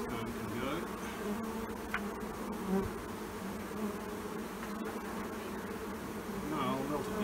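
Bees from a hive kept in a possum box buzz continuously up close, a dense steady drone with individual insects passing by, and a faint voice occasionally underneath.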